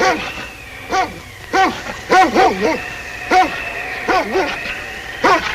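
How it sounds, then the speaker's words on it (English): Sled husky lead dog barking in short, repeated bursts, some clustered in quick doubles, loud and close over a steady background tone, with no talk in between. "It's that big lead dog. He's telling the team not to go."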